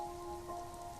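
Steady rain falls in the video game AFK Journey, a soft, even wash of drops with a faint sustained tonal hum running underneath, alone and without talk.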